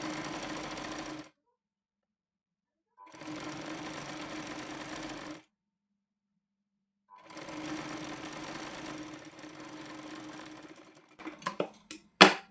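A sewing machine stitches a katori blouse in three bursts of steady running with silent pauses between them, then a few short clicks and knocks at the end.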